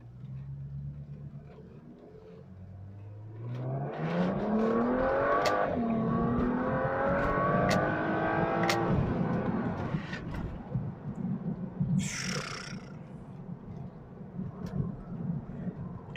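A BMW 335i with a DKG dual-clutch gearbox, imported from Japan, pulls away in sport mode with a warm engine, revving up through rising pitch with gear changes. The sound builds steadily from a low idle and stays fairly close.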